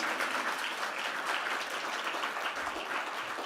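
Graduation audience at an IILM Institute for Higher Education convocation applauds, a continuous mid-distance wash of many hands clapping, fairly soft and steady throughout.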